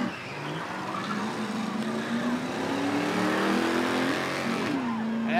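Chevrolet Camaro and Aston Martin launching side by side in a spectator drag race at Rockford Speedway at night, engines rising in pitch as they pull away, heard at a distance under an announcer's voice.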